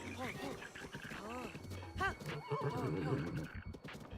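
A horse in the Zelda Breath of the Wild video game lets out a couple of whinnies and snorts amid game sounds, with a voice speaking around them, moderately close but fairly quiet overall.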